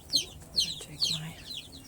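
Newly arrived baby chicks huddled together give soft, high cheeping peeps in a quick series of about four calls, faint and close, over a low background hum.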